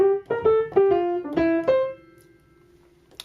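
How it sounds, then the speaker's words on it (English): A short jazz line played in a lilting Dixieland or ragtime eighth-note feel: about six bright, clearly pitched notes in a bouncy uneven rhythm, the last held note ringing out alone before a faint click. "Or Dixieland eighths or ragtime eighths would be like this maybe."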